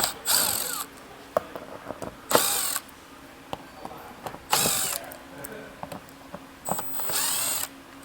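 A ratchet with a T30 Torx bit removes fasteners underneath a 2026 Ford Escape during a base plate install, sounding as quick bursts of close, sharp clicking separated by short pauses.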